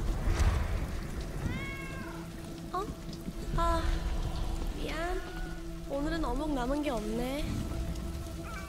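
A cat meows several times in short, rising and falling calls amid steady rainfall in the Valorant Incursion cinematic trailer, with a voice speaking softly between the meows.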